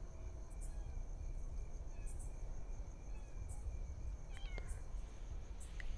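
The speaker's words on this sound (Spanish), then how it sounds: "Y curiosamente el gatito está aquí." A cat meows several times in a cemetery at night, short bright cries spaced through the clip over a soft background of chirping crickets.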